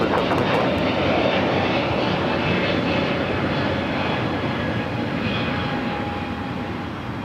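A British Airways airliner taxis at LAX toward the Tom Bradley terminal gates, its steady, loud engine roar holding nearly constant throughout with no talking.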